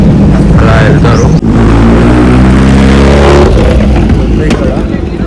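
Motorcycles on a Sunday breakfast ride to Panchgaon near Delhi, a loud, close engine roar with steady revving and droning pitch that dips briefly, then builds again and holds throughout.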